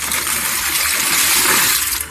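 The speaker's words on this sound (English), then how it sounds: "And our step now, we're going to go ahead and add our noodles." Noodles from a 12-ounce bag tipped into a pot of water for chicken and noodles, a loud rushing, splashing hiss of pouring and churning water lasting about two seconds, no speech.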